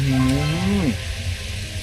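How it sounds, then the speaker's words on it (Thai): A stream flows through a mountain village in the Italian Dolomites, giving a steady, close rush of water that runs without a break, with a brief voice at the start. "ในหมู่บ้านนี้น้ำตกมีลำธารไหลแบบนี้"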